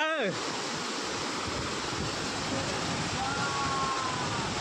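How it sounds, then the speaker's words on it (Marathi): Water from a hidden waterfall rushing steadily, a broad continuous roar filling the clip, with faint voices and a brief tonal sound at the start. "हे पाणी समुद्राचं नसून धबधब्याचं असतं म्हणून त्याला नॅचरल पाणी बोललं जातं. तुम्ही पाहू शकता पाण्याचा प्रवाह."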